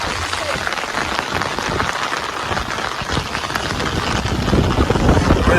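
Heavy rain pouring outdoors at Cherrapunji, a dense, steady hiss of drops striking the ground, loud and continuous, growing slightly stronger toward the end.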